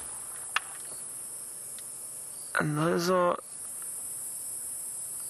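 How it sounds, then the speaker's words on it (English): High, steady insect ringing of cicadas runs throughout, with a brief word spoken partway through. "those are little cicadas making that noise."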